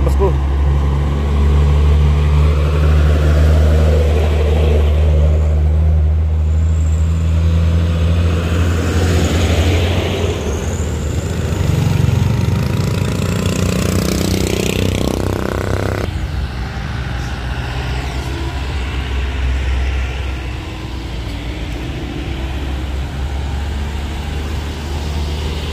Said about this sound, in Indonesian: Ini penarikan truk bosku.